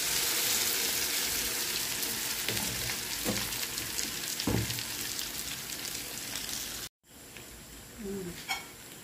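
Steady frying sizzle of pork belly in hot oil, with a few clinks and scrapes of a utensil; the crackle briefly cuts out and resumes.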